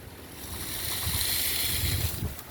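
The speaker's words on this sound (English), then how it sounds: "You see how windy it is? It's very windy here." Strong wind buffets the microphone outdoors beside a Chevy Express van, a loud continuous roaring rush with low rumbling gusts, no voices.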